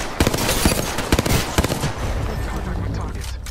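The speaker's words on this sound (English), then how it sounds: "I'm taking fire." Video game gunfire in a battle-royale match, a rapid burst of sharp, close shots over about two seconds, then a rumbling tail.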